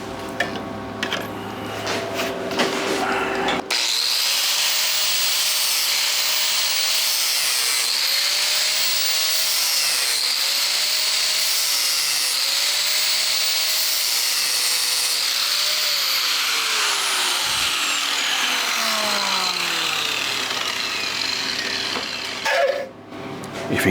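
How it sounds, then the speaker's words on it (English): An angle grinder runs continuously, grinding porous weld metal out of a steel utility trailer ramp. It starts abruptly with a loud, steady whine whose pitch dips and rises rhythmically as pressure on the metal changes, then winds down and stops near the end. "take your grinder and grind that out"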